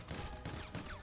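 Sustained minigun fire in GTA 5, a dense, continuous roar of gunfire throughout, with no speech over it.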